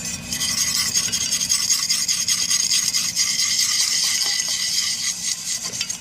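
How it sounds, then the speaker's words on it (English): A steel brush scrubs a cast iron pan continuously for several seconds, a loud, close, raspy grinding with steady back-and-forth strokes and no voices. "I take a steel brush and I scrub it a little bit with the steel brush"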